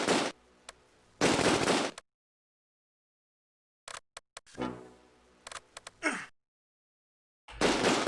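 Bursts of .30 cal machine gun fire in the Close Combat WWII strategy game, coming as several separated loud rattling volleys with silent gaps between them, plus a few short sharp shots.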